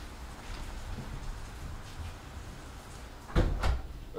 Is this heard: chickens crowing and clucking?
no